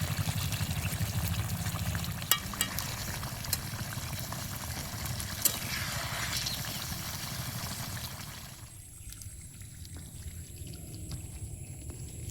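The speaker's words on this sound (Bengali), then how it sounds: "লোটে মাছের ল্যাংচা ঢেলে দিলাম" Cooked loitta fish langcha being poured out of a pan in a riverside village setting, a steady wet pouring rush lasting several seconds with a few small clicks, then fading to quieter outdoor ambience.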